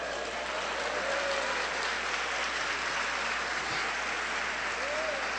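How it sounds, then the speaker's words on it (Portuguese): Steady, fairly faint applause from a church congregation during a Portuguese-language evangelical service, a continuous wash of clapping with no voices over it. "Se é para Jesus, aplaude a ele."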